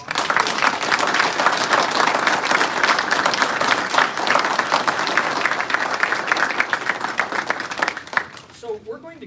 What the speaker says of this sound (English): Let's have a round of applause for our new officer